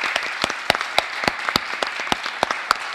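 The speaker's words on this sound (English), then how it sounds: "Let's give them a round of applause." An audience applauds speakers at a talk on world-changing inventions, a lively patter of many hands with distinct louder claps popping through, close and sustained for the whole stretch.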